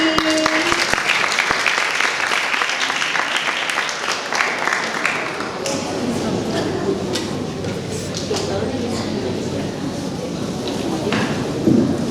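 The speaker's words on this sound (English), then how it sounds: "Okay, give applause for number 3." Students and audience at a junior high school English presentation competition clap together in sustained, loud applause that fills the room throughout, with voices talking underneath.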